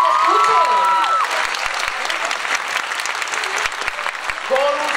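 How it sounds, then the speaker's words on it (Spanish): An audience at a school talent gala applauds with continuous crowd clapping, while a voice speaks over the applause at the start and again near the end. "Es que un aplauso para este colegio"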